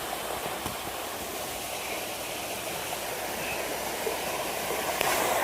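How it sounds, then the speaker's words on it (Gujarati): Water rushes along a stream beside a farm field, a constant gushing wash with no pauses, moderately close and even in level. "જો ભાઈ, મસ્ત મજાનું પાણી જાય છે."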